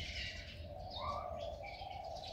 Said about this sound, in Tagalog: Tapos may mga chirping birds.